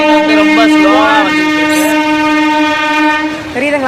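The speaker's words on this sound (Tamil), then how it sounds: "ட்ரெயின் போகுது பாருங்கள்." A passing train bound for Tiruchi blows a long, loud, steady horn near a riverside, with the rumble of its cars underneath and people talking over it.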